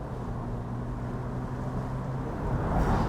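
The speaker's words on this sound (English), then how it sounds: "And I love the sound of the engine." A 2021 Mini Cooper S Convertible engine hums low and steady while driving, mixed with road and wind rush, swelling slightly louder toward the end.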